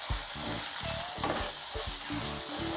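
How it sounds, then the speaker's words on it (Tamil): Mushrooms frying in a pan as crushed pepper, cumin and fennel are stirred through them, a steady close sizzle broken by repeated scraping strokes of the spoon. "மிளகு, ஜீரகம், சோம்பு அப்படியே க்ரஷ் பண்ணி வச்சதை போட்டு விட்டு மிக்ஸ் பண்ணிடலாம்"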